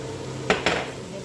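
Two quick metallic clanks of a utensil against a pan while chicken fried rice is mixed with soy sauce, close and clear over a quiet background.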